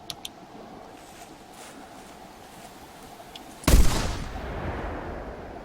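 A single loud rifle shot fired with slug ammunition at a bear in theHunter Classic, a sudden sharp blast after quiet outdoor ambience, followed by a rolling echo that fades slowly.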